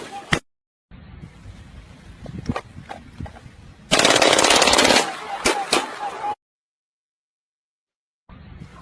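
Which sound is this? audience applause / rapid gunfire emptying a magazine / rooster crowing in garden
rapid gunfire emptying a magazine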